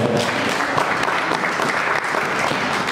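A church congregation applauds together in a dense, steady burst of clapping that fills the room for a few seconds, with no talking over it.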